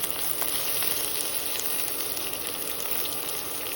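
Onions sizzling as they fry in hot oil in a home kitchen, a steady dense hiss running continuously and fairly close with no pauses.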